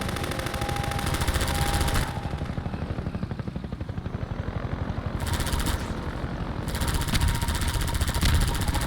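Sustained automatic gunfire aimed at the player in Half-Life 2, a fast, relentless rattle of shots mixed with a whirring, helicopter-like mechanical drone, loud and close, dipping briefly before surging again.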